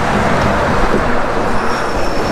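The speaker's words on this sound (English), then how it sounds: "Is it all just a bunch of cars?" Dense roadway traffic rumbles along a New York City street, a continuous broad roar of passing cars with a faint whine near the end, loud and close to the microphone.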